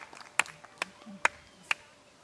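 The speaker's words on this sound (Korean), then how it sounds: "하나님 앞에 영광의 박수 올려드립니다" During a Sunday worship service at a church, a few sharp, evenly spaced claps ring out quietly, four distinct hits over about two seconds rather than a full round of applause.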